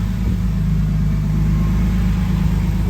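A 2000 Porsche Boxster S engine idles smoothly after a fuel pump replacement, with a steady loud low rumble close by and no talk.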